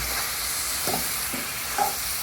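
Mutton and ground coriander powder are stirred in hot oil in an outdoor village kitchen. A few soft scraping strokes sound over a steady, even sizzle.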